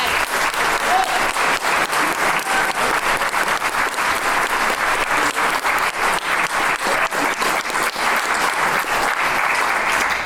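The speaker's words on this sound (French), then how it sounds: "Je pense qu'on peut encore les applaudir" Sustained applause from a theatre audience at the close of an improvisation challenge show, a dense steady wash of many hands clapping for about ten seconds with no voices over it.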